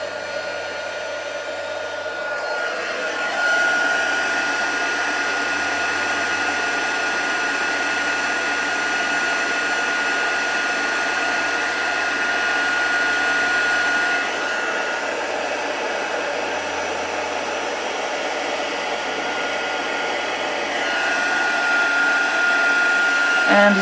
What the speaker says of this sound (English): your heat tool, which you need to heat before you do this.